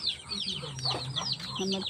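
Several chickens cluck and chirp close by, a busy overlapping chorus with a low hum underneath.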